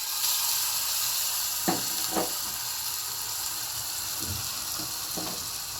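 Ginger-chili paste hits hot oil in a Gujarati home kitchen while vada pav is made, giving a steady broad sizzle with a few soft spoon scrapes and stirring knocks. No one speaks.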